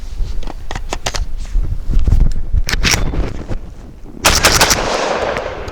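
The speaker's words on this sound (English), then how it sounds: "Now we've got some Fiocchi low recoil buckshot." An SDS Lynx 12 semi-automatic 12-gauge shotgun fires Fiocchi low-recoil nickel-plated 9-pellet buckshot outdoors: several sharp, loud, close reports at irregular intervals, with wind rumbling on the microphone.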